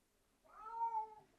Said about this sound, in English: If you have a cat that won't be quiet